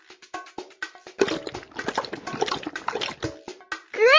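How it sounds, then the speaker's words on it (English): A pony drinks from a watering trough in a Dora video game: a run of cartoon gulping and splashing sounds in quick irregular bursts, close and fairly loud, ending with a rising tone. "Click on the watering trough to give our pony a drink."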